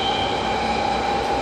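Continuous rumble of a train running on the rails, with a steady high whine from the wheels, heard close from inside a carriage.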